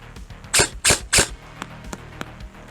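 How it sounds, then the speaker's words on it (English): EMG CMMG MK47 airsoft rifle, a licensed high-performance model, fires three rapid shots in quick succession, each a sharp, close snap with a bright high hiss, followed by a few faint ticks. "I'm gonna just like rapid fire 3 shots."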